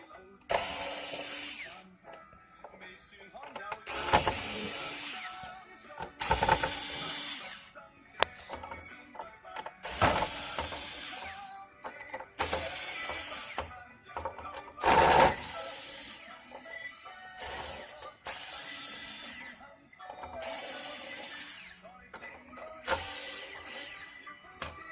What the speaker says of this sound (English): after you have removed all the screws, just gently remove the mask